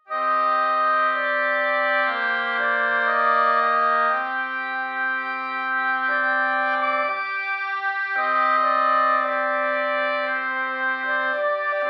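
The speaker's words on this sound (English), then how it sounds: "So the intervals, the 5th intervals on the oboe sound a bit like this." A solo oboe sustains paired tones a fifth apart, shifting to new intervals every couple of seconds, clear and steady with no voices.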